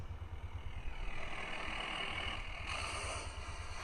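A Ford F250 diesel pickup with air-ride suspension runs steadily, giving a low, rumbling idle that stays fairly faint and even for a few seconds without any talking.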